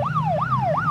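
An ambulance siren wails in a steady rising-and-falling sweep, repeating about three times in a second, loud and close, with a low engine-like hum underneath.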